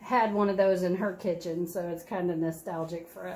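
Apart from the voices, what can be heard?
No everyday noise stands out behind the speech.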